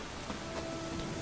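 Rain falls steadily in The Witcher 3, a dense even hiss of drops with no voices over it.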